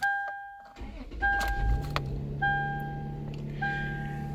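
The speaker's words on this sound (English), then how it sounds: "You turn the car off and then you start it on again." A 2005 Toyota 4Runner engine cranks and catches, then settles into a low idle, while a chime sounds repeatedly in the background.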